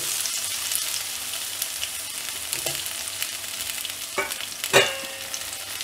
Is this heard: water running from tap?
no